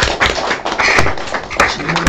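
Applause from a seated audience at an indoor gathering greets a company representative coming up to speak, a short burst of scattered hand claps and taps, fairly close and lively, lasting a couple of seconds.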